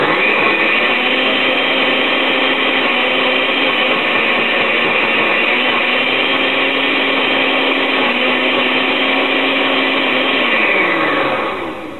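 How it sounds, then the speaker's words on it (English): A blender purees white bean dip, whirring steadily at close range for several seconds, its motor droning loud and even before winding down at the end. "give it a little blend."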